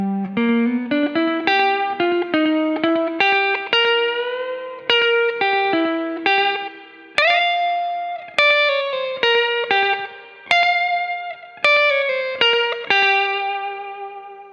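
Electric guitar with effects and distortion playing a slow jazz blues lick: a steady run of plucked single notes and bends, each ringing and decaying, loud and close with no talking.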